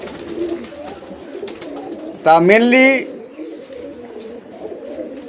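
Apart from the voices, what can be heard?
pigeons cooing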